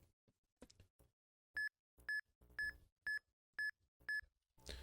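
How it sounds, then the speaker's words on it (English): EonTimer software timer sounding six evenly spaced, loud electronic beeps about half a second apart during a Pokémon PokeRadar shiny-hunting RNG attempt, with quiet clicks and button handling around them. "So you can, there was 6 beeps there."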